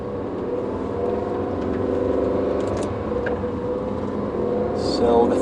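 A 2018 Aston Martin Vantage on a track pulls away in first gear with a low, rising engine drone. Engine noise fills the cabin, and a short high squeak comes near the end.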